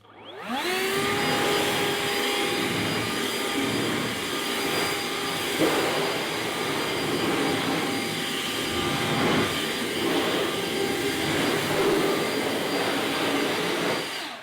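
A Ryobi 18V handheld leaf blower running on turbo spins up into a loud, steady high-pitched whooshing roar that holds constant and close throughout, with no voices.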